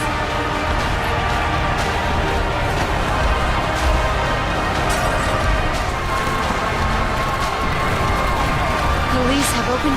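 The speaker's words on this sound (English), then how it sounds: "Crowds continue to gather in front of the Capitol." A dense crowd gathers before the Capitol in Deus Ex: Human Revolution, a steady roar of many voices and shouting that carries on without a break.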